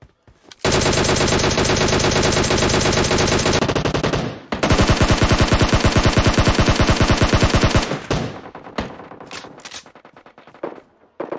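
Automatic gunfire in the PUBG Mobile video game on the Livik map: long sustained bursts of rapid shots, loud and dense, a brief pause, then another extended volley trailing into scattered single shots.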